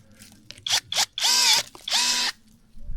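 A Parkside cordless pruner cuts tree branches. Its motor buzzes in several short bursts, then runs in two longer, steady cuts close by, with no talking.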